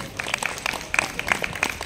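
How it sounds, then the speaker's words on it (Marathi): A small crowd claps at a community jayanti celebration in a residential avenue in Badlapur, a short patter of scattered, fairly faint handclaps. "सर्वांनी जोरदार टाळ्या वाजवायच्या शेजार धर्मासाठी"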